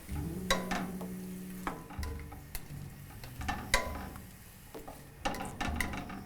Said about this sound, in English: So we'll stir that in. Make sure our vegetables are coated nicely.